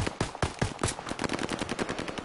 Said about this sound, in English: I'm gonna dump all my just fucking machine gun ammo